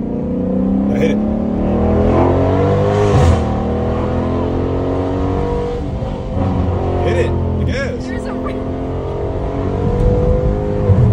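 A Dodge Charger Scat Pack engine of about 500 horsepower roars and revs up repeatedly as it accelerates through the gears, loud and close, with people talking over the engine noise.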